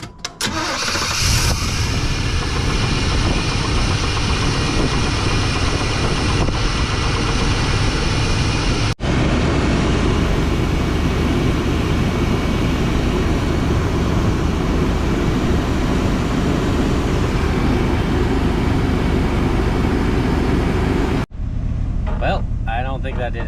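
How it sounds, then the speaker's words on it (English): A 1992 Chevrolet C1500 pickup with a 350 small-block V8 and throttle-body injection cranks and fires, then settles into a loud, steady idle close by before shutting off abruptly near the end. "Let's get a cool engine start shot."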